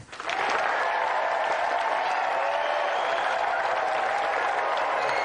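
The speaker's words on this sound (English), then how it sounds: "Round of applause for Jack." A television game show studio audience breaks into steady, loud applause that continues without pause, a dense wash of clapping filling the space.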